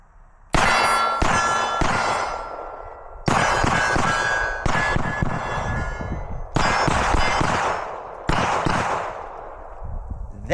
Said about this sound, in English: She's hitting the actual steel